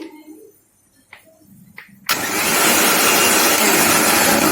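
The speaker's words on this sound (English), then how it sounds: "Add some little amount of water and give it a proper mix in a mixer jar. Blend it." A kitchen mixer jar blending homemade butter with a little water starts abruptly after a few soft clicks and clatters, then runs as a loud, steady, high whirring roar that fills the rest of the moment.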